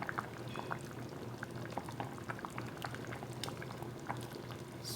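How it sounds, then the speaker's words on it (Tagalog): Chicken sotanghon noodle soup seasoned with a Knorr cube boiling steadily in a pot, a continuous bubbling simmer with small pops and gurgles throughout, close and moderately quiet. "konting kulo pa"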